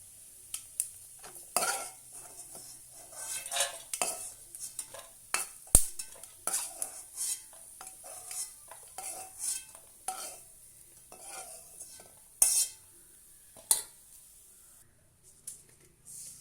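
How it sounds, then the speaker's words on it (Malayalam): Roasted grated coconut scooped from a hot pan into another vessel, with repeated spoon scrapes and clinks against metal over a faint sizzle, close, quiet and irregular. "ഇതിനെ വേറൊരു പാത്രത്തിലോട്ട് കോരി മാറ്റി വയ്ക്കാം"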